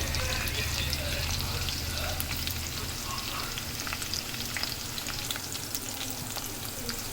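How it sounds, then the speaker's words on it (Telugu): Green chillies and onion fry over a low flame in a pan for a spicy chicken curry, a close, steady sizzle with stirring scrapes running throughout. "ఈ పచ్చిమిర్చి, ఉల్లిగడ్డ అయితే ఫ్రై అవుతున్నాయి."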